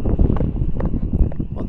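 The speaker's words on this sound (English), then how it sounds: "It's windy" Outdoor wind in an orchard buffets the microphone in irregular gusty bursts, with rustling and thumps of moving material mixed in, fairly close and uneven.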